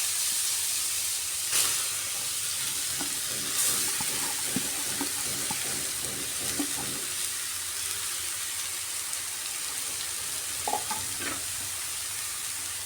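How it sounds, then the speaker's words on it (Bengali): Grated kohlrabi dropped into a five-spice tempering in hot oil, a steady sizzle and hiss with scattered stirring scrapes and clinks, moderately loud and continuous without speech. "ফোড়নটা ভালো করে ভাজা ভাজা হয়ে যাওয়ার পর গ্রেট করে রাখা ওলকপি দিয়ে দিচ্ছি।"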